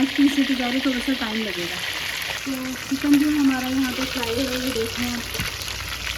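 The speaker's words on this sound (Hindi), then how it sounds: "तो चिकन जो हमारा यहाँ पे फ्राई है" Five chicken leg pieces fry on a tawa with a continuous close sizzle and occasional stirring, while someone talks over it.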